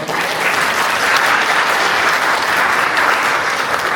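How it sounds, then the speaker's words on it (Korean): Steady, full applause from an audience at a children's speech contest, a dense wash of many hands clapping at even loudness for the whole stretch without talk. "박수를 보내드립니다, 여러분."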